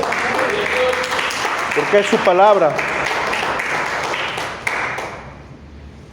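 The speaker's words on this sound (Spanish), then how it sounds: "Dele un fuerte aplauso al Señor" Church congregation applauding during a sermon, a steady wash of clapping under a preacher's voice, which fades out toward the end.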